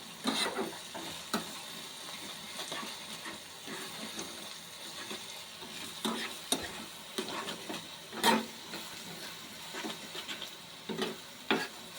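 Green chillies frying in oil for a cashew curry, a steady close sizzle broken by repeated scrapes and knocks of a spoon stirring the pan, with no talking.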